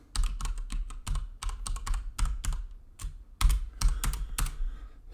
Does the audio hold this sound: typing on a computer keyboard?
yes